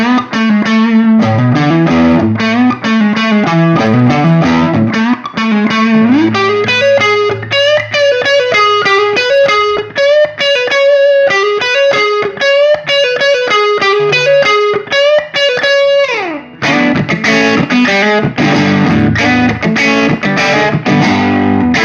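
Distorted electric guitar, a Gibson Trad Pro V with mahogany top and Custombucker humbucker pickups, bridge pickup volume rolled down slightly, playing a riff of chords and single notes, loud and continuous, with a brief break near the end before resuming.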